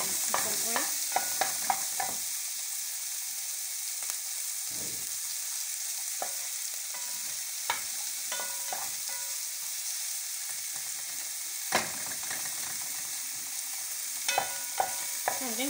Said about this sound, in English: I'm going to let my onions cook for a little bit